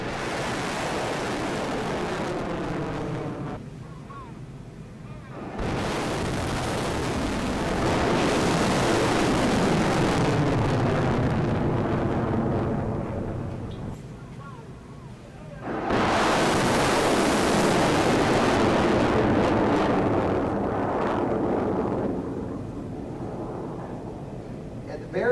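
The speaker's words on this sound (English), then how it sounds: "This is one of our rockets being launched from White Sands Missile Range." A Terrier Black Brant sounding rocket launches at White Sands Missile Range with a loud, broad roar that surges twice, each time holding for several seconds before easing off, heard from a distance.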